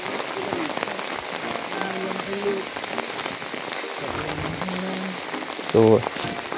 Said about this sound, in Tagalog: maulan lang dito ngayon